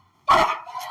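A single loud, close bark from a police canine during a search, one sharp burst with a rough tail and no talk around it.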